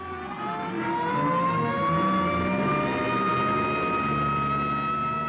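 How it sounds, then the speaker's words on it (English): A wailing siren from an ambulance in a 1947 film rises and holds in a long, continuous tone over a low engine rumble as the vehicle drives out, loud and close throughout. "here comes an ambulance out."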